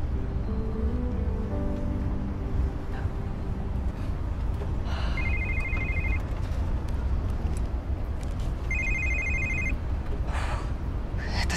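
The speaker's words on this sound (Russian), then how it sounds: "Это Стас. Так ответь" A telephone rings twice in bursts over a steady outdoor background hum, the electronic ring tones clear and moderately loud, with no talk during the clip.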